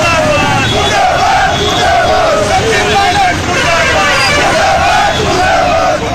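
Protesters at a Congress ticket-distribution demonstration in Bikaner chant slogans against Sachin Pilot, a loud, dense crowd with rhythmic, rising and falling shouted chants close by.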